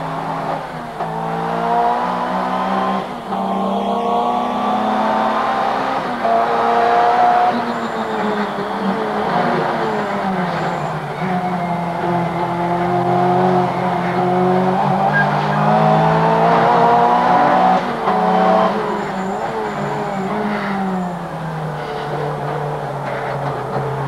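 A Group A racing car on a circuit, tyres squealing through corners as the engine note rises and falls, a loud sustained whine of rubber and motor with no talking over it.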